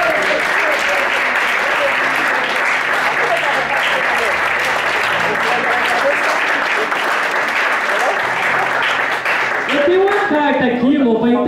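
Church congregation claps steadily during a worship service, a dense, sustained wall of applause that fills the room, with a voice rising over it near the end.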